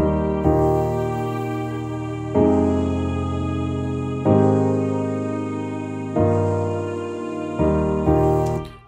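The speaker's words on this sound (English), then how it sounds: "sonatina violin, sounds like this" Sonatina violin sample playing sustained layered notes, with new bowed chords entering roughly every two seconds, each swelling in and holding steady, heard alone without voices.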